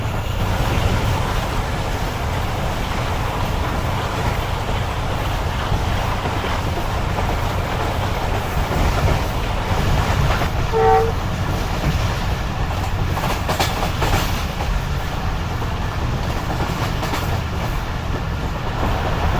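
The Shalimar Express rolling behind its locomotive between Rohri and onward stations, a loud, steady rumble of wheels and carriage noise with faint rail clatter throughout, heard from aboard the train.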